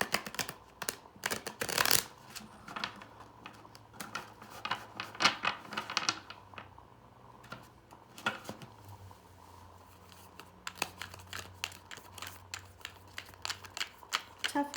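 Tarot cards are shuffled repeatedly in dense bursts of riffling clicks and soft slaps, with a quieter lull in the middle before the shuffling picks up again; close, with no speech.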